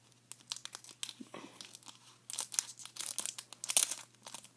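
A Pokémon card booster pack's foil wrapper is torn open up close in a flurry of crisp, crinkly rips and crackles, with short pauses between pulls.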